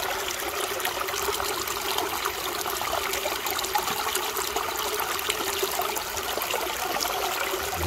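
Creek water flows through a wooded stream in a steady, close trickle and splash, a continuous bright wash that holds constant from start to end.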